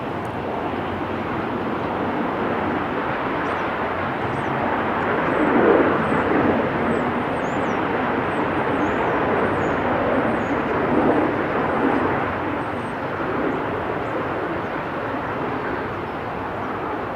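Jet airliner arriving at Melbourne Airport on a flight from Brisbane, a steady broad engine roar heard from a distance outdoors that swells gently around the middle and holds, with faint bird chirps above it.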